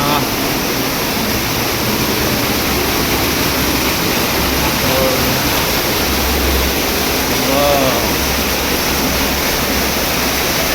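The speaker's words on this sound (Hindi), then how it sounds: "ओ भयंकर की इतना तेज बरस रहा है ये झरना।" A powerful waterfall at Guchhupani in the mountains near Dehradun pours in a steady, loud, full roar that fills everything, with a man briefly exclaiming over it.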